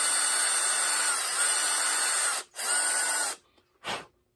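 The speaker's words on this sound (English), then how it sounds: "So I'm going to drill it in." A power drill whirs steadily and loudly at close range, cuts out briefly, runs again, then gives one short final burst before stopping.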